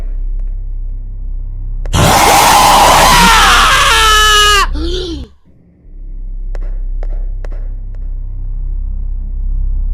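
A child ghost in an Indonesian horror video game lets out a sudden, piercing shriek that rises and breaks off over a low rumbling game ambience, followed by a brief drop and quieter background.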